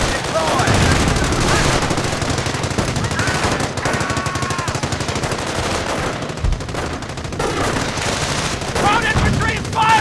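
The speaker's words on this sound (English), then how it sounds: "Ground infantry is firing on us!" Infantry gunfire in the real-time strategy game Company of Heroes, with dense machine-gun bursts and rifle shots rattling continuously over ten seconds amid battlefield noise, loud and close throughout.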